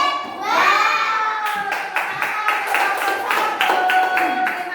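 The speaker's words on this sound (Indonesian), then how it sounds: "Tepuk WOW" Classroom children in Indonesia perform a rhythmic clap chant, several sharp sync claps in a steady beat, loud and close, mixed with shouted children's voices calling along.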